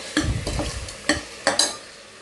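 Onions and spices sauté in a pan for cashew mutton biryani, close sizzling with several quick scraping stirs, including a few sharp strokes near the end.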